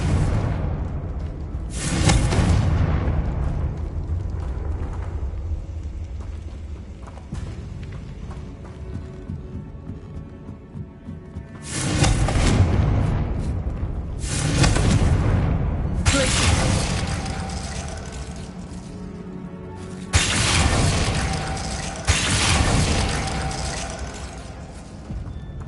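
Spell blasts from a Harry Potter video game, the Confringo fire spell, erupt in several loud booming bursts separated by quieter stretches of background game ambience.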